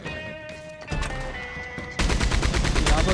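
Machine gun fire in Red Dead Redemption 2 starts as a lighter rattle, then swells into a dense, loud, continuous burst of rapid shots with a faint steady tone running underneath.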